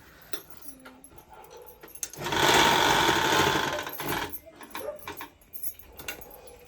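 A sewing machine stitches a border onto a quilt made from old saris, running in one steady burst of about two seconds, close and loud, between quieter handling and rustling sounds.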